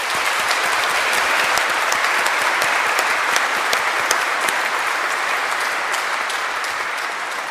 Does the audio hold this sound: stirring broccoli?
no